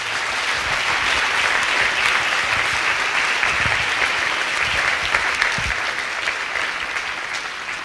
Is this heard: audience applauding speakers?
yes